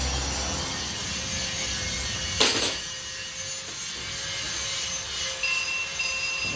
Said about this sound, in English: I'm going to have to cut that off, put new bolts through it.